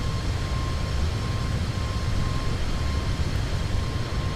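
Steady, droning engine roar of a KLM Boeing 747 airliner in Microsoft Flight Simulator, loud and constant with a faint sustained whine on top, no talking.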